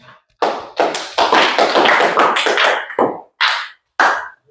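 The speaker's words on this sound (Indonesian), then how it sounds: "Baik, tepuk tangan." Students in a classroom lesson clap their hands, a close burst of sharp, rapid claps in uneven bursts with short gaps, ending in a couple of separate claps.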